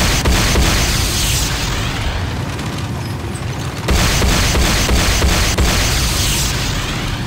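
Explosions pound an airstrip under attack in a video game, a dense, loud, continuous barrage of booms and blasts with a sharp surge midway, no voices.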